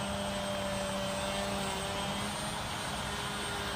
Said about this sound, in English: you can hear the motors aren't really changing speed, and that is because it uses pitch